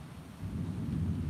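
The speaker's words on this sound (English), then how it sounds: "That's thunder." Distant thunder rolls in a low, steady rumble that slowly swells as a rainstorm approaches outdoors.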